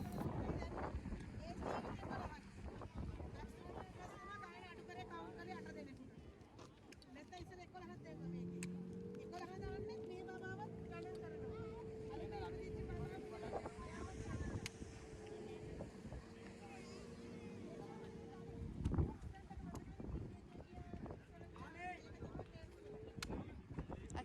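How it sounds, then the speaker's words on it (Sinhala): Speedboat ride on Lake Gregory in Nuwara Eliya, Sri Lanka, with three passengers aboard: a steady engine drone and water rush carry on throughout, buffeted by wind noise, with a louder bump near the end. "අපි යන්නේ ස්පීඩ් බෝට්."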